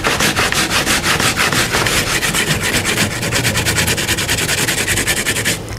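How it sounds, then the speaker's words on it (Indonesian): Coconut being grated by hand, a loud, continuous rasping with fast, regular scraping strokes repeating without pause, no voices. "Sudah selesai kita memarut kelapanya."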